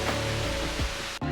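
A hidden waterfall near Seljalandsfoss, Iceland, pours as a loud, dense, continuous rush of white noise, close and filling the short moment, with a brief dip at the end.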